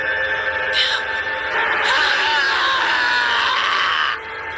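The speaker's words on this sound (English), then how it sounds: "Suddenly, he screamed, a gut-wrenching animalistic scream." A man lets out a gut-wrenching, animalistic scream in an animated horror story: a loud, raw, sustained cry lasting about three seconds before it cuts off sharply.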